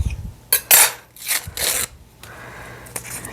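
A knife scraping and cutting through butter against a bowl while measuring about a third of a cup, producing several bright scraping strokes and clinks separated by short pauses, close and fairly loud.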